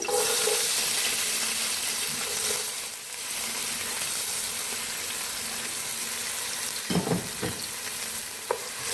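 Chopped bell pepper and carrot being stirred in a hot pan for chicken jalfrezi, a steady close sizzle with scraping spoon strokes throughout and a few sharper clinks near the end.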